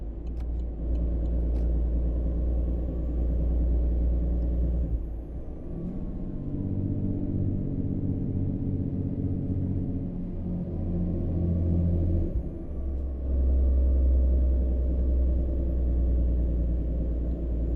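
Deep, loud engine drone of a Volvo VNL300 truck pulling a heavy haul in American Truck Simulator, holding a steady low rumble with a brief dip and shift in tone partway through, no talk.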